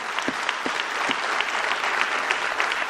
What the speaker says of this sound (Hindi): मैं चाहता हूं आपके लिए शानदार तालियां होनी चाहिए।